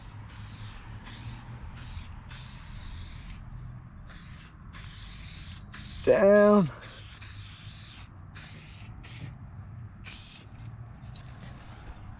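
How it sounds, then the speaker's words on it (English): Short bursts of cleaner spray hiss in a steady rhythm onto a side-by-side UTV's fender and door, pump after pump, while someone talks briefly and a low tone sounds in the middle. "We're going to be spraying from here"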